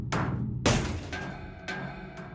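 A cube handled in a video game gives sharp, glassy shattering crashes, three or four bursts with a loud one near the start and short ringing tails between them.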